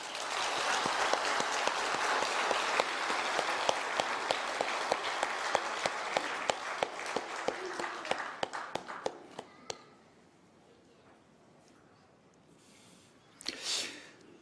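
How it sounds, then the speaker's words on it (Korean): A church congregation at a Sunday service applauds together, a dense, steady round of clapping that fades out near the ten-second mark and leaves near silence, broken by one short noise near the end. "우리 박수로 한번 격려하겠습니다"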